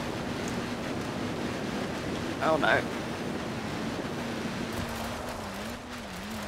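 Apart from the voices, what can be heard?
Land Rover driving through shallow river water in Forza Horizon 4 video game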